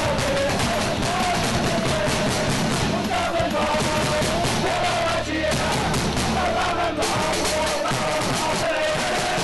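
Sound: football supporters cheering in stadium

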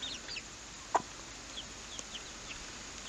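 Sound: rooster

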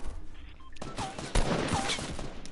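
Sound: gunfire in Fortnite video game

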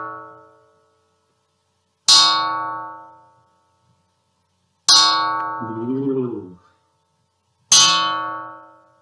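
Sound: junk percussion object struck, sounding like a church bell

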